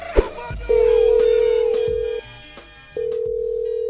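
An unanswered phone call rings out as a repeated electronic ringback tone, heard close and clear in two long steady pulses with a short gap between them, after a brief knock at the start.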